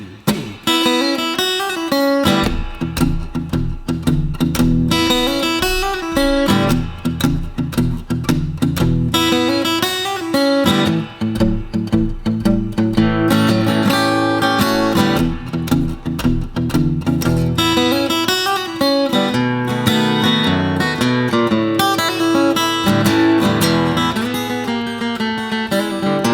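Acoustic blues guitar works through 12-bar blues licks, a continuous run of picked notes and chord stabs with a steady rhythmic pulse, loud and close with no talking.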